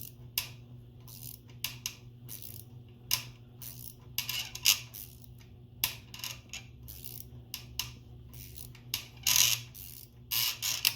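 A hand thread tap turned into oiled holes in a rear backing plate on an '87 Chevy S10, giving quiet irregular ratcheting clicks and ticks, close up, with no talking.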